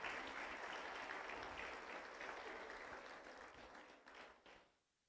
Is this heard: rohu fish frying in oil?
no